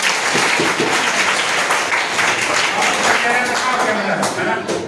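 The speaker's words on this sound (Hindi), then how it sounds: "ताली बजा दीजिए" A school class of sixth graders applauds a quiz competition winner with a continuous, loud round of clapping that holds steady throughout, with a few voices mixed in beneath it.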